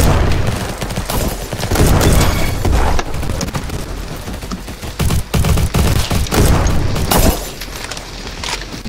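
Molotov cocktail shattering and bursting into flames in a Roblox game, loud, dense crackling bursts and booms layered with rapid gunfire, several heavy hits over a continuous chaotic roar.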